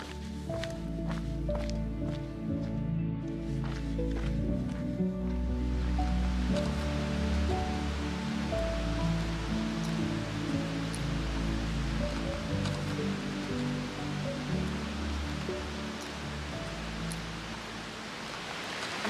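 Steady rush of a flowing river beside the Pacific Crest Trail, a constant broad wash of water filling the scene, with musical tones layered over it early on and no talk.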